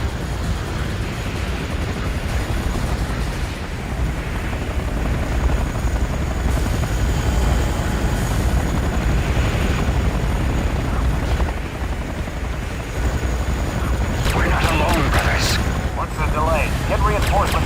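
A helicopter roars loudly and continuously in the Command & Conquer: Renegade video game, with a deep rotor drone that persists throughout. Game voices and a few sharp impacts sound beneath it.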